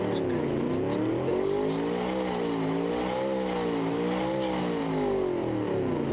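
Loud car engine in the BeamNG Drive video game revving continuously, the pitch rising and falling in wavering sweeps throughout, with a voice talking faintly underneath.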